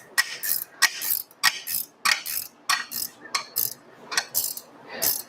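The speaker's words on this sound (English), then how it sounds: "I still need the socket and ratchet" A socket ratchet turned on the twin-turbo Vortec 4200 engine in a Datsun gives short, close bursts of rapid clicking, about a dozen quick strokes in irregular succession with no talk.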